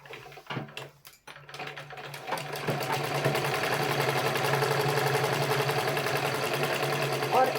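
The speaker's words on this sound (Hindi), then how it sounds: "अब मैं यहाँ तक प्लेन सिलाई करूँगी" A sewing machine runs a plain straight stitch on a garment, starting after a few sharp clicks and handling noises, then building into a steady, close mechanical whir that continues to the end.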